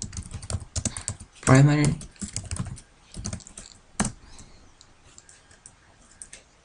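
Typing diskpart commands on a computer keyboard while making a bootable USB drive, bursts of clicky keystrokes heard close up, with someone speaking briefly over them.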